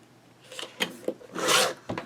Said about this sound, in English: So I'm just going to cut off this little trim piece down here.